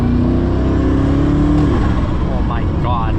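Koenigsegg Regera hypercar accelerating hard in full power mode, a loud continuous engine and drivetrain roar with a rising whine, heard from inside the cabin, with a voice speaking over it near the end.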